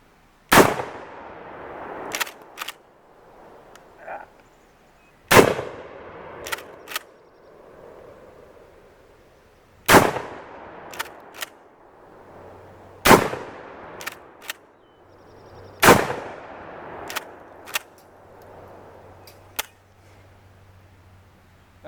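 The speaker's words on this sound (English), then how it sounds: "I will now rack one in and attempt to fire the gun." KSG-25 pump-action shotgun racked and fired outdoors: five loud, sharp gunshots spaced roughly every four seconds, each followed by quick metallic clacks of the pump being cycled, with a faint low hum underneath.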